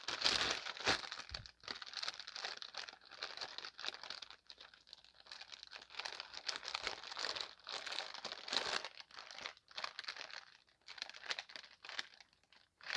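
Paper crinkling and rustling steadily for several seconds as sheets are searched through, close and fairly loud with brief pauses and sharper tearing-like crackles, no talking.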